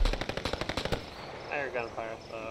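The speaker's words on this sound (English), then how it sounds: "I heard gunfire" Rapid automatic gunfire in the video game Predator: Hunting Grounds, a burst of about ten close, loud shots in quick rhythm, followed by quieter game sounds and faint voices.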